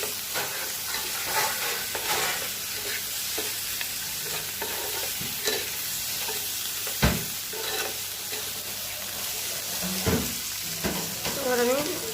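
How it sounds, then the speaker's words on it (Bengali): Spice paste sizzles and fries in hot oil as a spoon stirs and scrapes around the pan, a steady close crackle broken by occasional louder knocks, with no talking. "মশলা থেকে তেল ছেড়ে দিয়েছে। এখন আমি আরেকটু এরকম করে নাড়াচাড়া দিয়ে"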